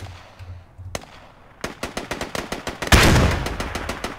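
Gunfire in the tactical shooter game Squad Ops: a few isolated shots at first, then a rapid string of sharp cracks building into a dense, loud burst of fire near the end.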